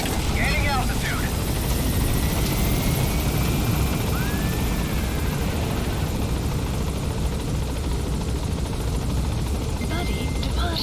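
A helicopter rises and gains altitude in the video game Metal Gear Solid V, its rotor and engine a steady, loud, unbroken roar from start to finish, with faint radio-style game sounds in the background.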